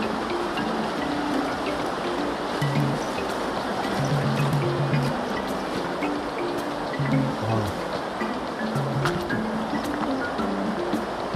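A river runs along its bank with a loud, continuous rushing and churning, the flow carrying on evenly throughout with no talking.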